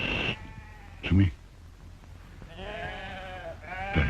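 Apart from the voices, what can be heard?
goat bleating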